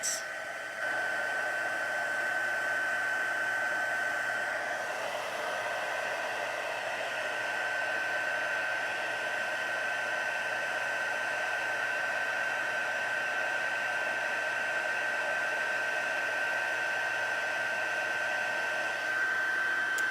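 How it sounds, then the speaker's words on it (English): Steady, loud whooshing roar of a heat gun blowing continuously while embossing white powder on a card, with a constant whine, running uninterrupted throughout. "when I start my heat gun"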